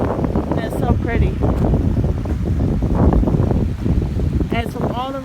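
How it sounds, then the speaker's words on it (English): Rushing water flowing strongly after hard rain and snowmelt on an outdoor nature walk, a continuous churning wash with wind buffeting the microphone and a person talking over it. "the sound of this water is so relaxing"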